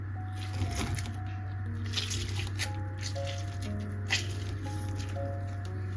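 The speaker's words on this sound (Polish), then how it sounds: "Wyciskamy teraz sok z połowy cytryny." Half a lemon squeezed by hand while baking a lemon cake, soft wet squishes and drips in short irregular bursts over a steady low kitchen hum, close and fairly quiet.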